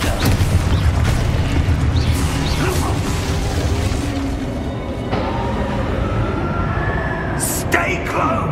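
Spell blasts from Confringo in the Hogwarts Legacy video game: dense booming, crashing effects with whooshes fill the clip, loud and continuous, mixed with game music and some voices.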